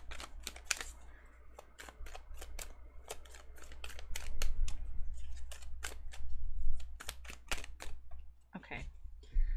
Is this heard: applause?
no